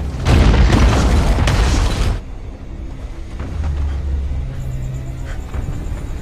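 A loud booming explosion as a tower collapses in an action movie, with a dense rumbling burst lasting about two seconds that then drops to a lower mechanical rumble and ambient noise.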